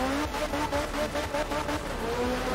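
Rally car engine in the video game Art of Rally, revving hard and steady with tyres spinning for grip, a constant loud game engine drone with pulsing throttle over about two seconds.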